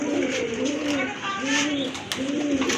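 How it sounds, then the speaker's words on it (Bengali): Pigeons coo in low repeated rolling calls, close by, while people talk in the background. "আর এক জোড়া কবুতর খুবই লক্ষ্মী এবং কিউট কবুতর"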